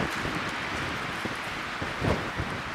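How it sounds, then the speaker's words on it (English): Strong wind of over 30 miles an hour gusting at a riverside campground, a loud continuous roar of wind buffeting the microphone, swelling briefly near the end. "the wind is up over 30 miles an hour"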